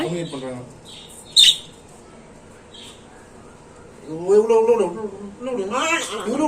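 Two pet parrots squawk in short sharp bursts, one loud squawk standing out early, heard close up over a home setting while someone talks throughout.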